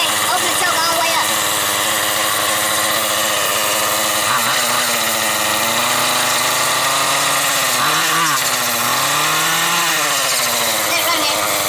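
A small gasoline engine runs steadily after its choke is opened fully, a continuous loud motor drone with pitch wavering near the middle and end, while people talk over it.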